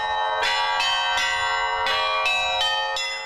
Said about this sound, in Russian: Звон колоколов